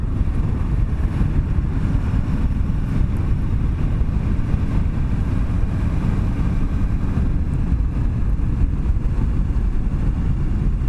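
A 2017 Kawasaki Ninja 650 motorcycle on a twisty road, its engine drone largely buried under constant heavy wind roar at the helmet, steady and loud throughout.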